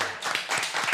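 A contestant on a French television show claps for herself, a short burst of close, sharp hand claps with some audience noise around it.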